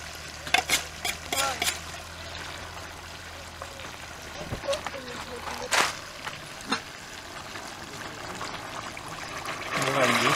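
Water poured into a pot of woodcock and vegetable stew cooking outdoors, a soft trickle under low background noise broken by a few clinks and knocks.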